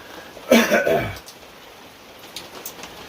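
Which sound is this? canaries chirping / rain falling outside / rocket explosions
rain falling outside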